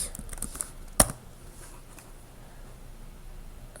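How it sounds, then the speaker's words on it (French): Keys tapped on a computer keyboard to enter a Symfony server command, a few quiet clicks with one sharp louder keystroke near the start, then faint room tone. "pour démarrer le serveur avec la commande Symfony, il suffit de taper Symfony server"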